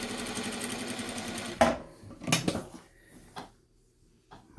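A Bridgesew 8700 sewing machine stitches with a fast, even mechanical chatter for about a second and a half, then stops, leaving a few scattered clunks and handling noises.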